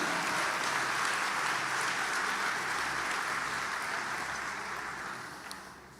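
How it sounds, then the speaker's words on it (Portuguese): A church congregation applauds during a worship service, dense steady clapping filling the room that gradually tapers off toward the end. "Pode aplaudir a Ele."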